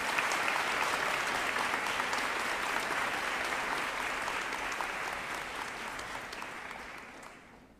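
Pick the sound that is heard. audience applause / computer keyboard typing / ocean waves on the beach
audience applause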